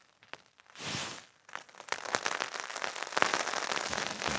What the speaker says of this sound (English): As you can hear, I haven't got water yet. It's raining.